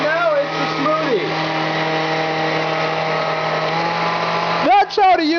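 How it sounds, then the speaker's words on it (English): Blender whirring steadily as it blends strawberries and banana into a smoothie, a loud continuous motor drone that cuts out near the end, with a voice briefly audible. "That's how to use a blender."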